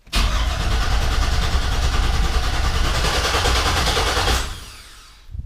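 LS V8 swapped into a 1988 Chevrolet Suburban cranks over smoothly, a loud continuous whirring churn of starter and engine spinning close by for about four seconds, then dropping away.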